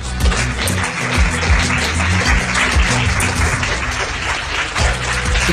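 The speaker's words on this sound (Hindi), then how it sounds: "जोरदार तालियां" Studio audience applause on a Hindi-dubbed dating reality show, a dense, steady wash of many hands clapping at close range for the whole stretch, with low music or room tones under it.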